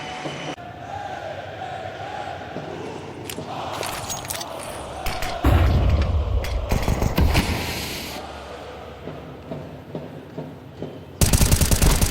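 Pistol gunfire rings out in a Counter-Strike 2 match at the IEM Cologne 2025 semi-final, sharp game shots in quick bursts and scattered single pops over a busy background of crowd noise and game sounds.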